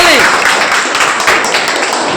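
Applause from an audience at a school quiz after a correct answer, a loud, close wash of many hands clapping, with a brief voice sounding at the very start.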